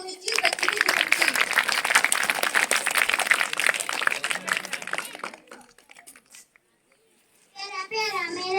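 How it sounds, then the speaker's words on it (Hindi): Enthusiastic audience applause and cheering for a child at a school Republic Day celebration, dense clapping lasting about five seconds before fading, then a voice speaking afterward. "एक बार जोरदार ताली होनी चाहिए बच्चे की खुशी की"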